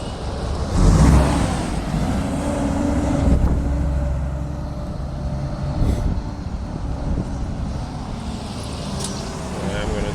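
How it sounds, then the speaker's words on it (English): A heavy truck passes along a busy main road at dawn, its low engine rumble and tyre roar swelling and then easing into steady traffic noise, with someone talking over it. "It's just be noisy with trucks like this one coming."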